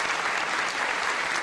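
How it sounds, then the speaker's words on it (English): A packed crowd at a town hall health care forum in Stuart erupts in dense, loud cheering and applause that holds steady for the whole moment. "It was a passionate crowd filled with cheers"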